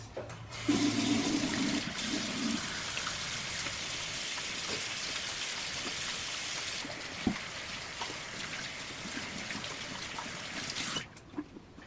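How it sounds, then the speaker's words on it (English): Tap water runs steadily into a sink during handwashing, a continuous close rushing splash lasting about eleven seconds, with a short low hum and a few knocks near the start before it cuts off. "So, first, gotta wash your hands."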